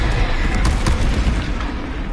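A Confringo spell blast from Hogwarts Legacy at Rookwood Castle: a loud, dense burst of explosive noise, booming and crackling throughout, with no talk.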